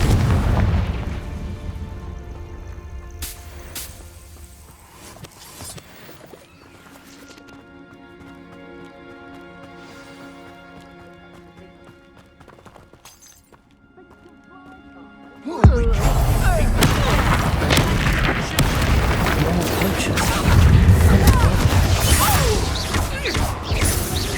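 Hogwarts Legacy on PS5: fire-spell explosions boom out, a quieter stretch of game music and effects giving way midway to a loud, sustained burst of blasts and crackling roar that fills the rest of the sequence.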